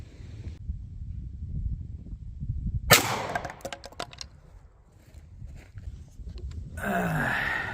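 A 9mm +P 147-grain hardcast round is fired outdoors in wind into a target of 16 layers of denim and two half-inch plywood sheets, giving one sharp, loud crack followed by brief rattling and wind noise.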